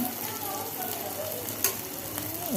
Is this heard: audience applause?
no